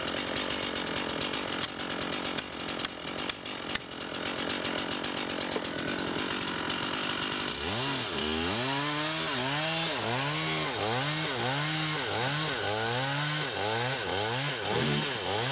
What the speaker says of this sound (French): la lame de tronçonneuse